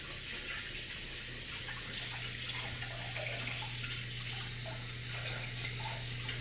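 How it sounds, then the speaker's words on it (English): Hands are washed under a steadily running kitchen tap while preparing Argentine beef empanadas, a continuous close hiss of flowing water lasting throughout with no talking. "I'm going to go ahead and wash my hands real quick."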